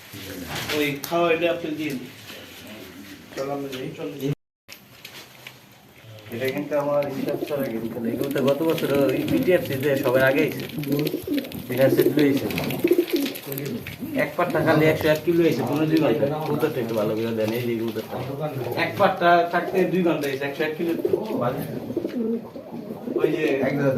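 Pigeons coo in cages while being checked and sealed for a 31 km racing-pigeon tournament at a club, with steady talk from several people over the soft cooing throughout.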